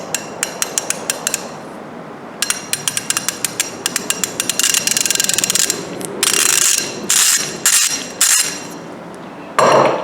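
An older-design Tekton ratchet clicks through its mechanism in several bursts of rapid, sharp metallic ticks, close and loud, with brief pauses between swings.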